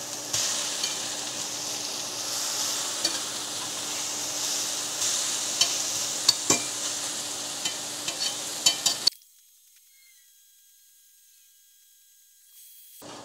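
Food sizzles in a pan after being flipped, a steady close hiss with scattered scraping clicks, then it cuts off abruptly to near silence for the final few seconds.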